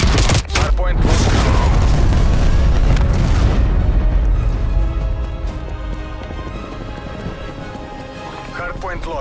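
Cruise missile explosions in Call of Duty Black Ops Cold War multiplayer on a hardpoint match, heavy booming blasts and rumbling debris that are loud at first and then fade out over several seconds.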